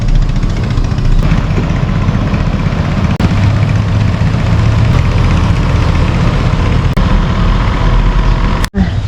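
A boat's engine drones steadily as the vessel pulls away on a misty morning in Laos, a constant low rumble that stays loud throughout with a few faint clicks and one brief dropout near the end.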